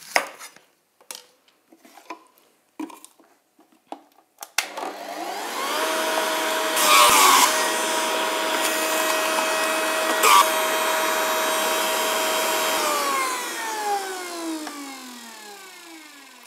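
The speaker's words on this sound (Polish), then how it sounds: "Dwa jabłka wycisnę w sokowirówce." An electric juicer presses two apples for homemade apple-pineapple juice: a few sharp knocks, then the motor spins up to a loud steady whine, runs for several seconds and winds down at the end.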